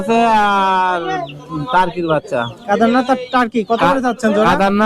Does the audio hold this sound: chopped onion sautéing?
no